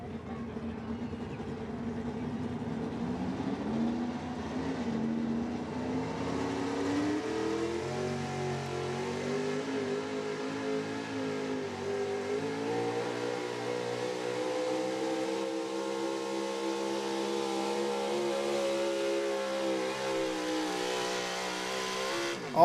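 1985 Chevy pulling truck at an evening truck and tractor pull, its engine roaring loud and sustained with rising, shifting revs as it works down the track, heard from a moderate distance.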